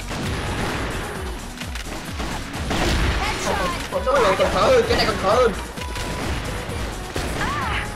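Sniper rifle shots from a shooting video game come as a few sharp, loud cracks mixed with other game effects, under excited Vietnamese-language talk from players.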